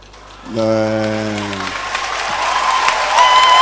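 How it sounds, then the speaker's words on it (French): A church congregation at a night vigil claps hands loudly together, dense sustained applause rising and filling the hall, with a sung or spoken held voice at the start. "Tape seul, tes mains. Faut taper fort, hein."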